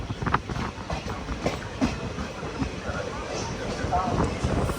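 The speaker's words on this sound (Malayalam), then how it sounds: "തൃശ്ശൂർ റെയിൽവേ സ്റ്റേഷനിലേക്ക് ഇതാ നമ്മുടെ ട്രെയിൻ എത്തിക്കൊണ്ടിരിക്കുകയാണ്" An express train pulls into Thrissur railway station, its rolling rumble and rhythmic clickety-clack of wheels steady and fairly close, with voices talking over it.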